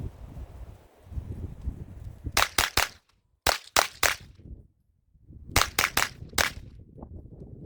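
Two quick strings of sharp, loud gunshots from a Smith & Wesson M&P FPC carbine, three or four rapid cracks each, separated by a pause and set against outdoor rustling and wind.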